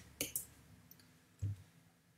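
A few quiet, crisp clicks from a computer keyboard key, with two close together near the start and a soft thump later, set against near silence.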